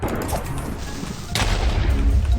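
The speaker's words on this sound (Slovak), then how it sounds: "To je creeper. No už vybuchni." A creeper explodes in a Minecraft game, a sudden deep boom halfway through that rolls into a sustained rumble after earlier game noise.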